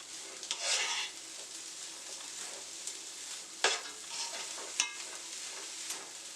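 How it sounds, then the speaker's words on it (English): Okra sizzles in a hot pan with a steady frying hiss while a utensil stirs it, giving scraping swishes and a few sharp clicks against the pan, close by. "You want to crisp up the okras a little bit and prevent it from becoming slimy"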